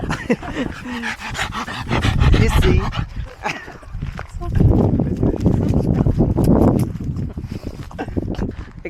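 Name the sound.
dog panting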